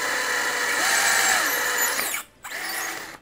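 A power drill bores holes into the plastic arms of an action figure, giving a high, steady whine for about two seconds, then a brief stop and a shorter burst.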